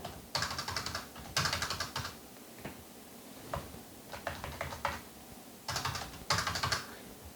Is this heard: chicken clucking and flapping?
no